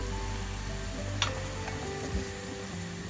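Lahmacun cooking in a frying pan at home, a steady close sizzle of frying dough with a couple of faint utensil clicks, no talking.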